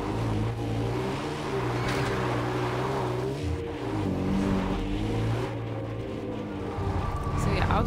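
A car engine droning steadily as it drives itself along a road in Far Cry 4, close and continuous, with someone talking over it throughout.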